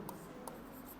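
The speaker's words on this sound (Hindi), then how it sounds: "लिखते हैं ना" Pen strokes from handwriting during a Hindi-language chemistry lesson: two quick, crisp scratches, close by, over a steady low room hum with no talk.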